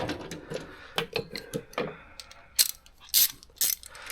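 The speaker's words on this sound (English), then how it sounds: "So you're just going to get you a ratchet" A ratchet wrench turns a 12 mm bolt on a DIY camera mount: a quick run of close, crisp clicks, then a few louder separated ratchet strokes.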